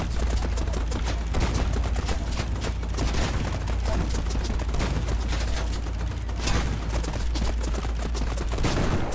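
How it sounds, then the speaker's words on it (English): Rapid, continuous shotgun blasts from STHELL, a robot-shooting video game, fire in a dense barrage with no pauses, loud and close throughout. "it's one of those shotguns where if you're at all far away from the opponent, it basically does nothing"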